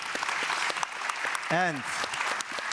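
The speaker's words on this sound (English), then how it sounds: "This is your applause." Audience applause closing the first day of a Berlin conference on global cooperation, a steady broadband clatter of clapping filling the hall, with a brief spoken word breaking through midway.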